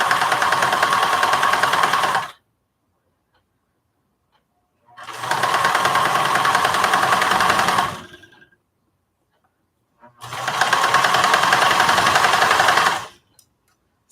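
Three bursts of rapid, steady machine-stitching on fabric for a project bag, each running two to three seconds and separated by silent pauses, close and loud.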